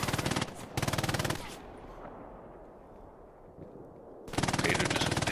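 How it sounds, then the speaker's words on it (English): Machine gun fire in Hell Let Loose comes in loud rapid bursts at the start and end, with a quieter stretch of distant battlefield rumble between them. "Blitz wiped out by the MG."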